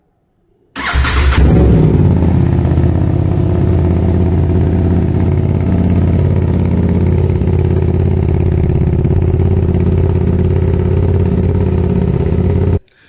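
An Aprilia RS 457 with an Austin Racing GP1R exhaust, valve open, cranks and fires up from cold, then settles into a loud, steady, rumbling idle that continues unbroken until it is suddenly cut off.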